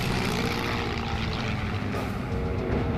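A WWII Japanese Val propeller dive bomber drones in flight, a dense, steady engine roar that stays loud and unbroken throughout with no voices.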